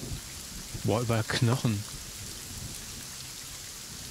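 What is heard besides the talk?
rain in the video game Black Geyser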